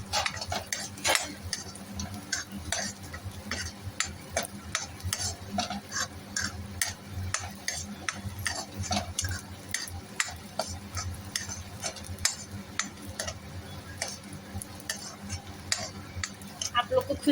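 Spices for flaxseed and dry ginger laddoos roast in desi ghee, stirred steadily with a spoon. A dense, continuous sizzle is broken by constant rapid scraping and clattering against the pan, close and busy throughout.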